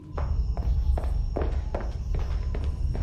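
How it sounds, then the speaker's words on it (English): Footsteps in the TV show The Haunting of Bly Manor, about five evenly spaced steps at a steady walking pace over a low rumbling background, moderately close with no talking. "The footsteps seem to be walking the other way."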